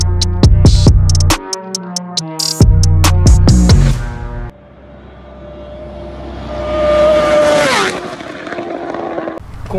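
A 2020 BMW S1000 RR motorcycle with a full Power Escapamentos exhaust revs up, its engine note climbing and swelling in pitch after a stretch of rhythmic music, then easing off near the end.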